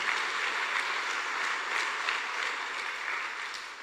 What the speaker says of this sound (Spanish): le decimos muchas gracias con otro fuerte aplauso.